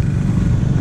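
Motorcycles arriving at a rally, a dense close engine rumble filling the moment with no voices.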